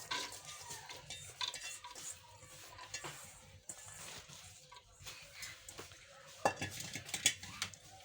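Soaked chickpeas clatter and rattle into a metal pressure cooker, with scraping and clinking of utensils against the sides, close by and fairly quiet.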